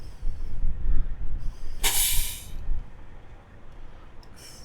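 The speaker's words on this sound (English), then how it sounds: "You'll turn your water on." Water running through tubing from a garden supply into a high-pressure mist cooling kit filter, a loud rushing hiss with a sharp spurt midway and a brief hiss near the end.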